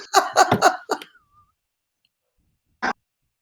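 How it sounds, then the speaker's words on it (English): A person gives a quick burst of several harsh coughs close to the microphone, then a single short cough after a silent pause. "I'm coughing."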